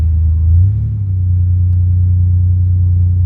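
An old pickup truck with no computer rumbles with a steady, low drone, swelling briefly early on before settling into an even hum.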